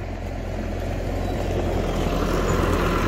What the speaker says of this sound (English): on the tractor tour, which is just passing us